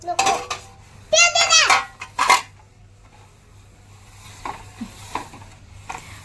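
Small utensils and plastic vessels clatter and clink in bursts as dishes are washed at home, while a child and others chat nearby, then quieter scattered knocks follow.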